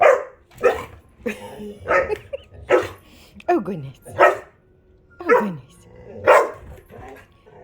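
A young puppy gives repeated high, yappy barks in a steady series of about ten, close and loud, while someone speaks softly between them.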